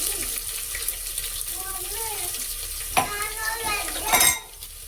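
Garlic sizzling and frying in a pan with a steady hiss and stirring scrapes, close and continuous, under a voice and other household sounds.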